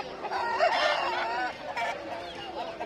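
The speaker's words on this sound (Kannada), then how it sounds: "ಪಕ್ಕದಲ್ಲಿ ಇನ್ನೊಂದು ಮುಂಜಾ ಇದೆ" A rooster crows nearby amid a busy backdrop of other chickens clucking at a country chicken market in Kundarapalli, the call rising and falling over a steady murmur of poultry.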